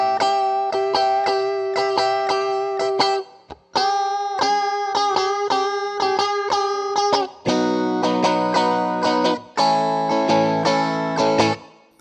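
An electric guitar plays a solo at a slow pace, with clean picked notes and chord stabs in shuffle-rhythm phrases separated by brief pauses, close and alone.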